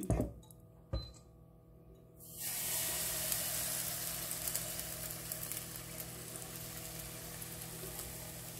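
Pancake batter made with quark hits melted butter in a hot pan and breaks into a loud, steady sizzle after a couple of faint clicks and taps. The frying hiss carries on evenly, close up.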